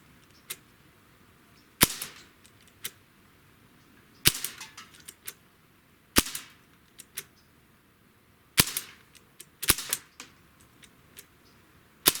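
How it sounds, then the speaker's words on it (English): A SIG Sauer MPX/MCX air rifle firing Meisterkugeln pellets: about seven sharp, close cracks at irregular intervals of a second or two, with fainter clicks between them and no talking. "We're going to shoot anywhere from 5 to 10 shots."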